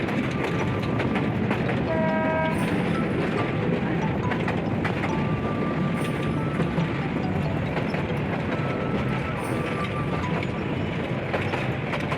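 Train rolling into a station near Bogura, a continuous loud rumble of rail cars with faint clicking wheels and a short tonal squeal or horn-like note early on, no voices.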